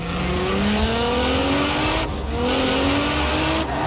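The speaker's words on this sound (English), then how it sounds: "A bit of speed, turn in, feather the e-brake as you hold the accelerator." Car drifting in Forza Horizon 4 with the e-brake feathered under throttle, tires squealing in long rising and falling wails over a steady loud engine roar, continuous throughout with no voices.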